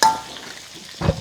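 Shrimp being stir-fried in a wok: a brief scrape and sizzle at the start, a quiet stretch, then a second stirring clatter near the end, with no voices.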